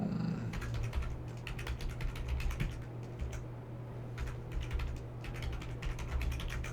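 Quiet, close clicking of a computer keyboard as a password is typed, bursts of keystrokes tapping irregularly over a low steady hum.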